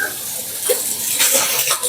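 Water runs without stopping into a bathroom tub or basin, a close, steady splashing hiss with a faint voice briefly underneath.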